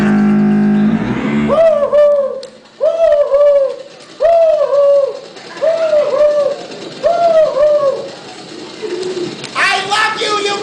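A human voice imitates trained pigeons with a series of about five rhythmic rolling coos in a lively club show setting, followed by a brief higher whooping call at the end.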